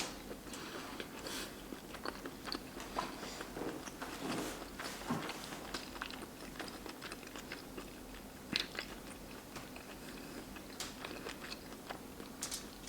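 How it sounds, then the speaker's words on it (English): Chewing and biting into fried lobster from a seafood boil, with close, moist crunches and mouth sounds spread through a quiet stretch, a few sharper bites standing out. "Let me finish chewing."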